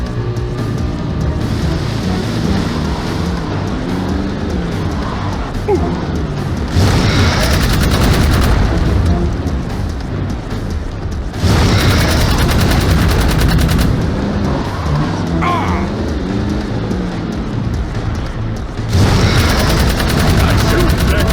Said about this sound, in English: Nice shooting, Jak, baby!